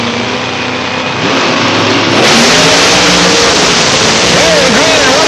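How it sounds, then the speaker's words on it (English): Pro Modified drag racing cars launching off the line at a 1992 Labour Day meet at London Motorsports Park, engines roaring in a loud sustained blast that swells sharply after the launch, with an announcer talking over it. "Here they go. Pro Modifieds on the starting line now."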